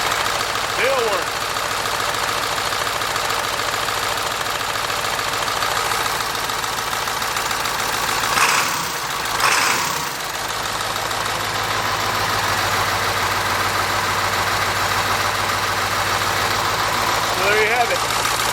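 Ford 7.3 Powerstroke diesel settles into a steady idle after a cold start on a chilly 48-degree morning, a continuous low rumbling clatter heard close up, with a brief disturbance partway through as someone talks over it.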